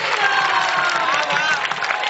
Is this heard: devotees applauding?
yes